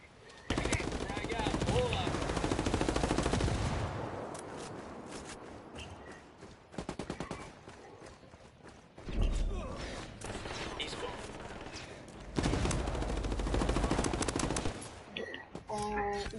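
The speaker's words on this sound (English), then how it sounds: "Under heavy fire!" Heavy automatic gunfire in a PS4 multiplayer shooter, loud sustained bursts in long waves separated by quieter stretches, with a voice talking at times.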